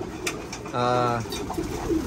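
Racing pigeons at a loft give a short, clear cooing call in the middle, with fainter bird sounds before and after it.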